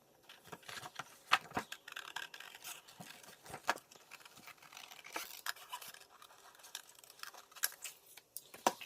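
Scissors snip through paper to cut out a wing shape, giving quiet, irregular crisp snips and rustles at close range with no talking.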